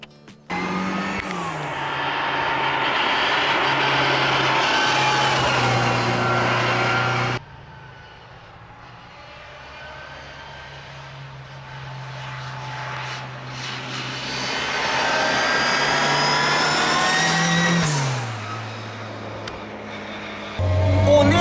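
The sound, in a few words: Mini Cooper car engine running and revving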